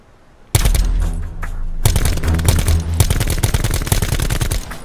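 Rapid automatic gunfire in a Black Ops 4 Blackout battle royale match, starting suddenly and running in loud, close bursts with brief gaps, no talking over it.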